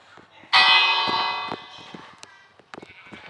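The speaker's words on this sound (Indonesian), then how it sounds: "Kenapa bel yang ini kagak goyang?" A single bell strikes loudly and rings out with a bright, slowly decaying tone, followed by a few faint clicks and taps.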